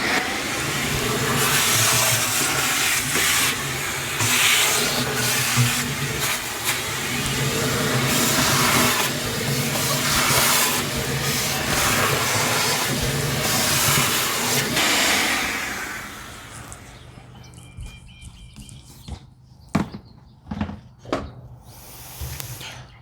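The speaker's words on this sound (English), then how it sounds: "So in vacuuming out this unit, I want to move it to the sear mode." A vacuum cleaner sucks ash out of an Oklahoma Joe's Rider DLX pellet grill: a loud, steady motor whine and rushing airflow for about fifteen seconds, then it cuts out, leaving scattered knocks and clatter.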